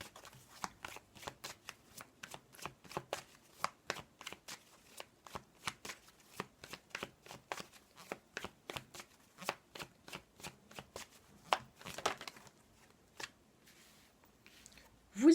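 A deck of oracle cards shuffled close up, a long run of quick crisp riffling snaps at a steady rhythm, quiet and intimate, ending with a brief pause and a slight bump at the end.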